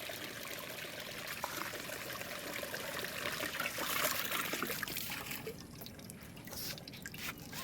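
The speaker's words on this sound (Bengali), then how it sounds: "আমি আমার টপটাকে ধুয়ে দিচ্ছি" Water trickles and splashes steadily while a lotus plant tub is washed, a continuous wet stream with small drips and pouring surges, fairly close and alone.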